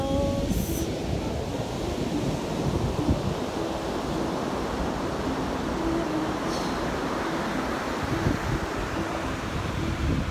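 Ocean waves wash continuously on Papahaku Beach in Hawaii, a steady broad surf roar with some wind across the microphone, and a few faint high tones near the start and middle.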